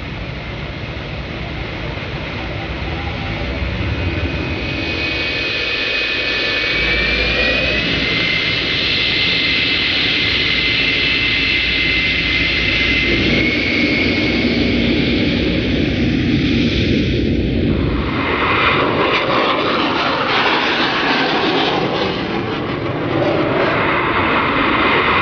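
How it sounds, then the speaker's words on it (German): A loud, sustained jet engine roar fills the whole stretch, with a high whine over broadband rumble, shifting in tone partway through. "Heute allgemein für Strahltriebwerke und damit angetriebene Flugzeuge."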